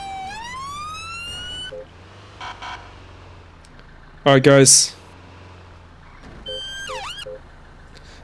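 An ambulance siren in GTA 5 wails and yelps in rising sweeps, with other siren tones and a loud burst of static-like noise in between, and a voice speaking briefly.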